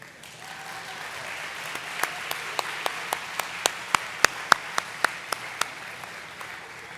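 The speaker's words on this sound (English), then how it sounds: "You can applaud." A graduation audience applauds the presented class, with broad, continuous clapping and a run of sharp, distinct claps from one person close by standing out over the crowd.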